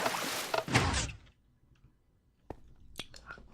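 Door in the game Minecraft opens and closes: a loud burst of noisy clatter at the start, then after a quiet gap several short sharp knocks and thunks close together.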